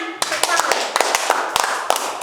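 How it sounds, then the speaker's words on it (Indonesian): A few people clap their hands in short, uneven bursts close to the microphone, mixed with people talking and laughing. "Tepuk tangan."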